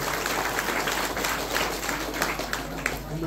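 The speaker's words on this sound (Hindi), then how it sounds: "एक बार तालियों से अभिनंदन करें माननीय मुख्य अतिथि महोदय" An audience at a formal gathering applauds to welcome the chief guest, a dense, steady burst of hand clapping from a crowd that carries on for several seconds.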